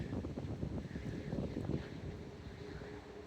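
Steady wind gusts buffeting the microphone outdoors at dusk near old stone ruins, a low continuous rumble with no talking.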